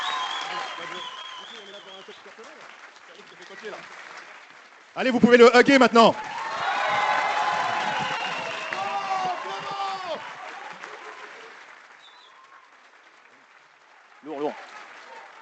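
A short burst of crowd applause and cheering in a gaming setting rises suddenly amid French chatter, then dies back under continued talk, with a faint second flurry near the end.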